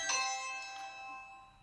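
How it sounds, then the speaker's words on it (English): A Byron 776 mains chime doorbell, triggered by a Ring Doorbell Pro and running an 8 volt chime on a 15 volt output, gives a clear ringing chime. Its bright tone decays slowly, with a faint second strike. "this is an 8 volt doorbell working on a 15 volt output, and it's ringing"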